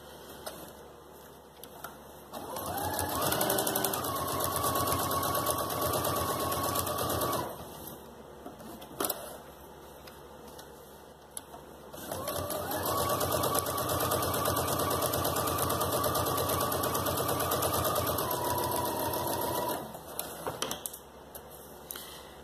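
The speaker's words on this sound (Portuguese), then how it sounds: "E nesse aqui eu vou passar uma costura de segurança em cima e na parte de baixo." A sewing machine runs a safety seam on a small bootie, whirring steadily in two long close bursts with a quiet pause between them.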